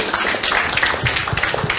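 Audience applause at a tourism forum on King Island, a dense, steady patter of many hands clapping across a room, with some faint murmuring underneath.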